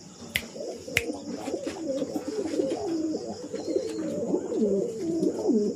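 A king pigeon coos continuously in low, rolling, warbling calls, close and clear, with two sharp clicks early on and a steady background hum.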